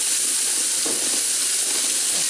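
Shallots, chili and garlic mashed with salt sizzle loudly in oil in a pan, a steady hiss of frying with faint stirring underneath and no talking.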